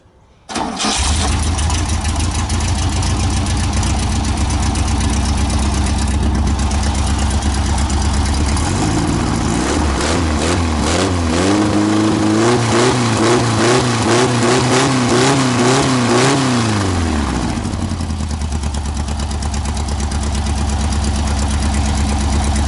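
A Volkswagen Beetle (Fusca) engine with no exhaust fitted cranks and catches, then runs loud and raw, rising through several revs before dropping back to a rough, throaty idle, close by.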